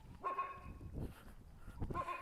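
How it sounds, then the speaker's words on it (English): Dogs bark in the background, with two bursts of harmonic barking and yipping at the start and end, separated by a quieter, muffled stretch. The barking is moderately distant, and no one speaks. "There's like dogs in the background."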